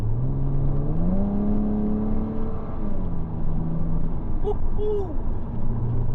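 A 987-generation Porsche Boxster accelerates on a winter drive, its engine note climbing steadily in pitch then settling into a sustained drone with a later rise, heard continuously from inside the car.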